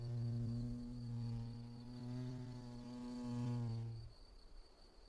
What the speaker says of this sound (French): Cette osmie bicolore a fort à faire pour aménager son futur nid